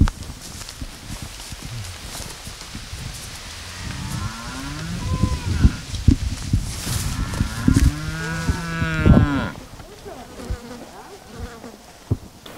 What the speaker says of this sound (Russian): пасется кормилица семьи – корова Марта